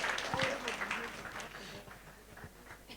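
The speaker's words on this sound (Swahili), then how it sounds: "Situmpigie makofi mazuri." Audience applause at a wedding celebration, a soft wash of clapping that gradually thins out while a voice talks over it.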